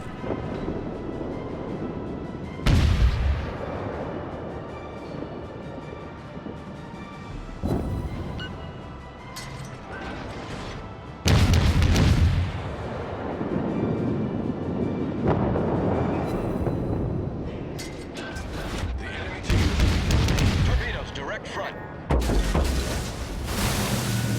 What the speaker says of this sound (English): I look at him and I take a few shots at him. Full broadside.